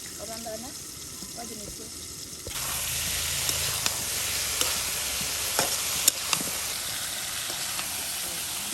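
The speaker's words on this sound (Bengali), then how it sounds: "বাহ, একদম বেগুন ভাজি হয়ে গেল" Eggplant slices frying outdoors for a traditional Mymensingh village iftar, a steady hiss and sizzle with occasional stirring clinks. It starts after a short quieter stretch and carries on close and even.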